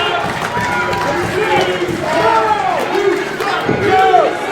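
Wrestling crowd at a Clash 30 tag-team match roars and cheers in a steady, dense wash, rising in waves as fans try to rally behind a worn-down wrestler, with a commentator's voice running underneath.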